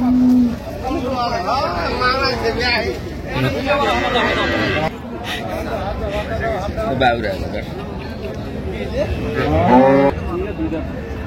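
A dairy cow lows loudly nearby amid a busy cattle market at Raniganj, Dinajpur, with people talking and bargaining in the background throughout.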